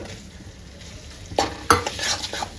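A spoon stirs a potato gravy in a cooking pan, with quiet sizzling at first and then several close, louder scrapes and clinks of metal against the pan.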